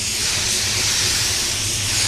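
A spray gun laying down white pearl paint, aimed upward, gives a steady, loud, continuous hiss of atomized spray with no pauses, alone.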